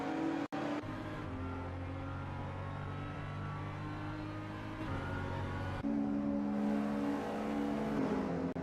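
Racing cars in a sim racing game roar and whine with engine drone, a sustained revving pack of engines with shifts in pitch as cars jostle for position, steady and loud with no talk.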